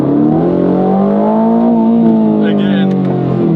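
A 2025 Aston Martin Vantage pulls hard in third gear, its engine note rising steadily in a loud, smooth drone heard from inside the car.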